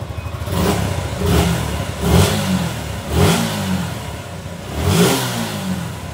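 A Suzuki Gixxer motorcycle engine running after a hard-start problem, revved in repeated surges that rise and fall about once a second, loud and close, with no voices.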